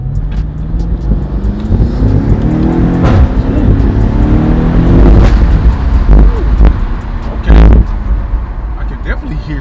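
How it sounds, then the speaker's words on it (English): A BMW F90 M5 fitted with an MST intake revs loudly and close up, its engine rising and falling through several sharp throttle blips over a steady, heavy rumble. "definitely hear a little bit more intake noise"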